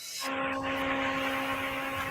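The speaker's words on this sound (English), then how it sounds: "It sounds like somebody's hoovering there" A vacuum cleaner hums steadily in the background, a constant droning whir that starts abruptly and holds at an even level.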